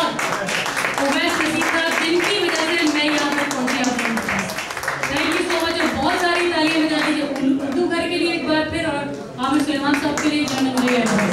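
Audience at a live music event at Blue Moon Event Center in Lewisville, Texas, clapping in a dense, sustained patter while someone speaks loudly over it into a microphone.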